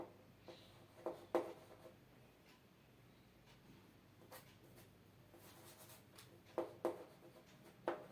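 A teacher writes on the board in a chemistry lesson, making intermittent scratchy strokes and short taps that come in small clusters, faint and close, with no talking over them.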